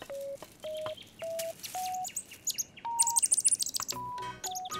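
Bird chirps from a baby bird in a French cartoon: a run of short, evenly spaced tweets followed by quicker, higher twittering, close and clear with no talking.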